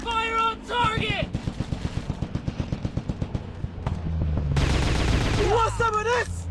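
Rapid automatic gunfire in a video game, a steady run of loud bursts mixed with in-game voice callouts and music-like tones, continuing under game sounds throughout.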